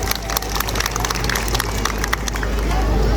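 A rally crowd applauds and cheers for Jokowi in a dense, steady roar of clapping and crowd noise that carries on without a break through the short stretch.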